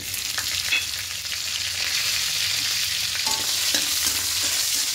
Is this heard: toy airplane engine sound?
no